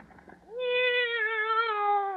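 Minerva, a pet cat just let out of a bag, gives one long, clear, close meow that rises and holds steady for over a second, after a brief stretch of faint rustling.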